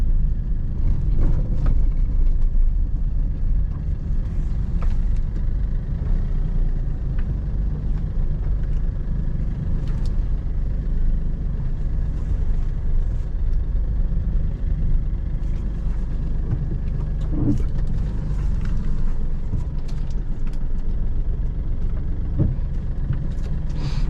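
Car moving along during a beginner's driving lesson, a continuous low engine and road rumble from inside the cabin with small faint knocks, no voices.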